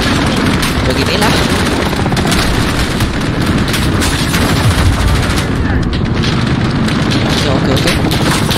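Gunfire and explosions in Call of Duty: Modern Warfare during the Hunting Party mission, with a dense, loud, continuous barrage of rapid shots and booming blasts and no pauses, an RPG among the weapons.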